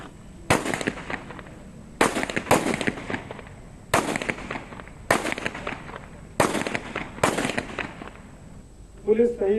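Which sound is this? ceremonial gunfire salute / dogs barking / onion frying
ceremonial gunfire salute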